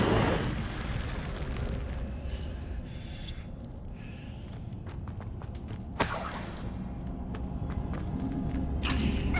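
The Incendio fire spell in Hogwarts Legacy erupts in a dense, roaring whoosh. A sharp burst near the end is followed by a crackling flare, over muffled game thuds and footsteps.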